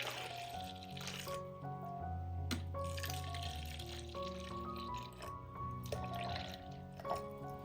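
About two and a half cups of water pour into a mixer jar holding squeezed coconut pieces, making a quiet, close trickle and gurgle with rising ringing tones and a few drips over several seconds.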